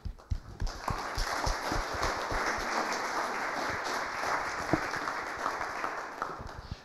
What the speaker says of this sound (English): Round of applause for Raymond.